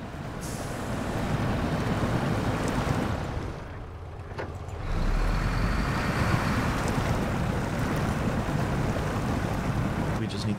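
An International Paystar truck in SnowRunner grinds through deep mud, its engine a steady heavy roar with a churning, sloshing wash that dips briefly then surges back louder, under occasional commentary from a player.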